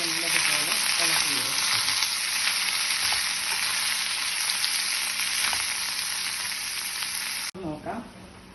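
Ivy gourd thoran fries loudly in a pan with a dense, continuous crackle while a spatula stirs and scrapes through it, then the sizzle cuts off abruptly near the end, leaving a few softer clatters.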